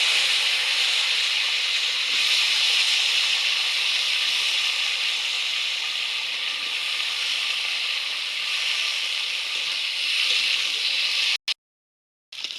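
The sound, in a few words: potatoes and vegetable stalks frying with cumin in a pan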